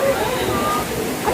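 Water rushes and sloshes at the falls of the Villa Escudero resort, a loud steady roar that fills the moment while a voice talks over it nearby.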